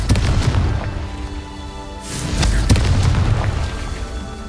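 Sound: Confringo spell explosion from the video game Hogwarts Legacy

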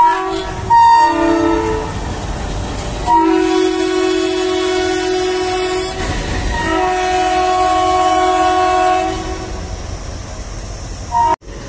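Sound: WDP-3A diesel locomotive horn and train

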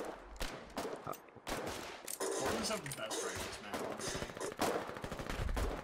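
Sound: automatic weapon fire in the video game Foxhole

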